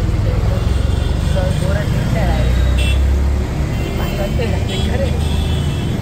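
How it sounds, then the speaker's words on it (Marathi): An auto rickshaw rides through the streets of Indore at night toward Sarafa Bazar. A steady engine and traffic rumble runs throughout, with occasional horn toots and voices in the background. "फायनली आता आम्हाला रिक्षा भेटली आहे."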